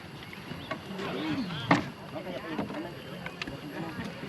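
A small boat moving on water in Khammouane, Laos, with engine or hull noise and wind, while people talk nearby.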